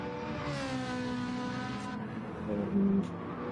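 A Ferrari race car engine in a racing video game, a steady mid-level drone with a rising pitch and a brief louder surge near the end.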